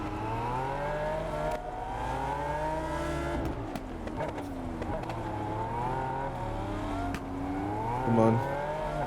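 Race cars in the Test Drive Unlimited Solar Crown video game roar steadily throughout, engines rising and falling through gear shifts with a sharp drop partway in, loud and continuous with no voices.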